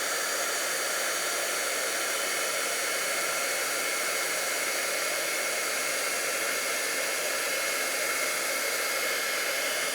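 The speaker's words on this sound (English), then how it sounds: "we're going to take our heat tool and set this white embossing powder." A heat tool blows hot air to set white embossing powder on a handmade thank-you card, a steady, loud, close hiss that holds unbroken from start to finish without any talking.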